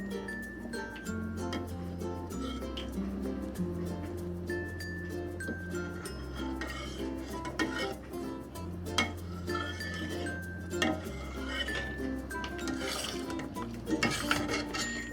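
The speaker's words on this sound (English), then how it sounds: "let's skim off some of the foam" A spoon scrapes and clinks against a pot while skimming foam off cooked red beans for a sweet red bean and tapioca soup, light scattered taps under steady background music.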